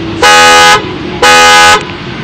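Panic alarm on a 2011 Nissan Altima sounds its horn in two long, loud blasts close by, separated by a short gap, with no talking over them.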